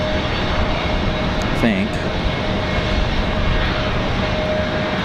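Jet airliners such as a Boeing 737-9 arriving at Raleigh Durham airport on a windy day make a broad steady engine roar with heavy wind rumble, while someone speaks briefly over it.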